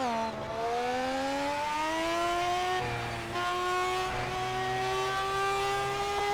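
A rotary-engined car in the Project Cars racing game revs steadily upward toward its peak RPM, a loud, buzzing, smooth-pitched whine climbing continuously with brief dips at gear-like breaks and no talking.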